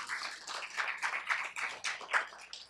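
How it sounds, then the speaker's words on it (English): Audience at a Tempe press conference on the Municipal Equality Index claps for Mayor Woods, a small crowd's scattered, uneven clapping heard nearby and moderately loud for a few seconds, with no voices. "Can we give him a round of applause too?"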